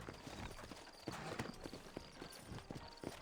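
Horse hooves clip-clop in Red Dead Redemption as a horse walks out of a town in New Austin, an uneven trotting patter at moderate distance with faint ambient noise and a brief voice in the background.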